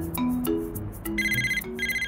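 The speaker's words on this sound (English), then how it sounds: "And then the phone rang." A cartoon telephone ringing in a children's animated show, bright electronic ring bursts repeating in a quick pattern over light music, clear and close.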